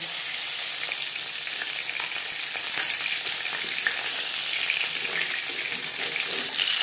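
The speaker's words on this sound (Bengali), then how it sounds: "মাছ আমি হালকা করে ভেজে নেব।" Rui fish fries lightly in oil with a continuous dense sizzle and crackle, close and fairly loud throughout, with small pops scattered across the steady hiss.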